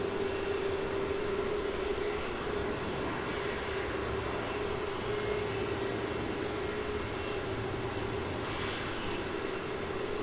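A Qantas airliner, flight QF1512, departs Melbourne Airport for Canberra, its engines a steady, distant roar holding evenly throughout with a faint sustained tone and no talking.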